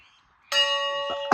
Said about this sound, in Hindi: आप देख रहे होंगे घंटी की आवाज़ कितनी अच्छे से